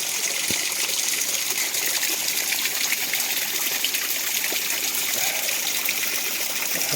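Natural spring water rushes steadily in the mountains near Tetouan, a loud, continuous gushing stream heard close up, with no pauses and no one talking.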